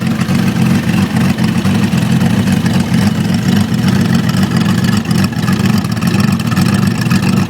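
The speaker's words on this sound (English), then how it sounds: "here's a 12x2 straight through exhaust that I made for the V12" Loud, continuous low burbling drone from a Kawasaki V12 motorcycle engine running through a 12x2 straight-through exhaust, a steady idle with slight pulsing and no speech.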